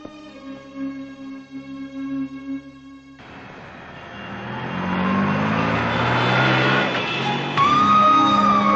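A lorry approaches from behind on a road, its engine rumble swelling from faint to loud and close, after an earlier stretch of background music.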